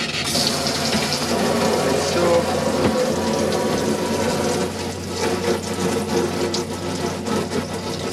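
Tap water running into the sink of a 2014 Elddis Majestic 145 caravan, a steady close-up splashing stream that continues throughout while someone speaks briefly over it.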